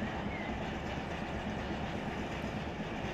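A long freight train in Run 8 Train Simulator III rolls along with a steady, close rumble and a dense rhythmic clatter of wheels over rail joints.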